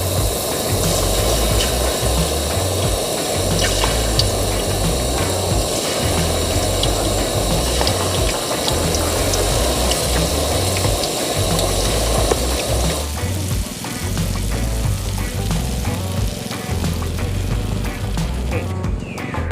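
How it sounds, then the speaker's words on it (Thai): Whole fish deep-frying in hot vegetable oil in a pan, giving a steady loud crackling sizzle throughout that softens and thins somewhat in the latter part. "น้ำมันร้อนแล้วลงกระทะเลย"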